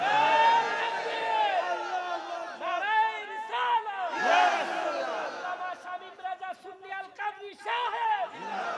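A crowd at a Shab-e-Barat religious sermon roars a loud takbir, many voices shouting together in repeated swelling bursts that echo through the gathering.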